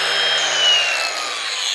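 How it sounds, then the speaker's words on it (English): A cutting wheel slices through welds on an aftermarket rear sway bar for a 1996–2000 Honda Civic EK coupe, giving a steady, close abrasive grinding hiss with a thin high whine, continuous for under two seconds with no voices. "And what I can do is take my cutting wheel right after. Just go straight down on either side."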